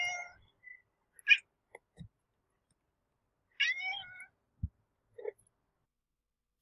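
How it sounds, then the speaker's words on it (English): Compis, a hungry cat waiting for food, lets out two clear meows a few seconds apart, interspersed with soft clicks and small sounds, ending with a brief trill, all close and fairly quiet. "when he sees me, he starts to meow"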